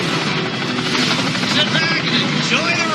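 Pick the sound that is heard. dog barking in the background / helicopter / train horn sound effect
helicopter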